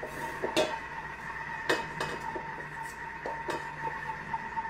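Utensils clink and scrape against a dish as Spanish-style pork stew is served into it, a scattering of sharp metallic taps over a quiet kitchen hum.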